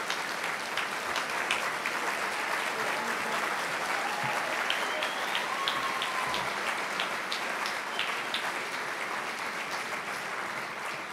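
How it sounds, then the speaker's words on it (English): Sustained applause for family members at an Army Sports Hall of Fame banquet, a dense, even roar of many hands clapping that carries on steadily, with faint voices mixed in. "let's just give you a round of applause"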